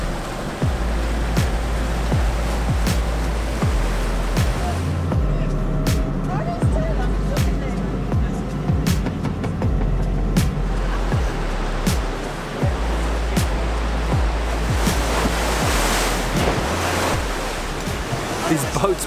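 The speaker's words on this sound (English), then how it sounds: "Boats move so fast, they're so quick to maneuver." Boat speeding over Southern Ocean swell off Tasmania, a constant loud rush of wind and water with repeated hull thumps slapping against waves, and people talking now and then over the roar.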